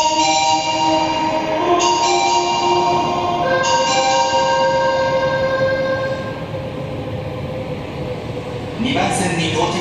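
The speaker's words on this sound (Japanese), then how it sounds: "2番線に大正行きが到着します。" An Osaka Metro Nagahori Tsurumi-ryokuchi Line 70 series train rolls into Osaka Business Park station platform 2 with a steady metallic rumble and squealing tones, slowing as it arrives, with a short horn-like blare near the end.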